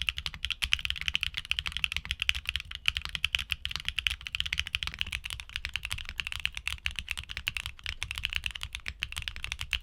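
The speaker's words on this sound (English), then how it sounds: "combining clacky and poppy elements to create a satisfying auditory feedback with each keystroke" Rapid, continuous typing on a mechanical keyboard with HMX switches, crisp clacky keystrokes close up in an uneven flurry, with no talking.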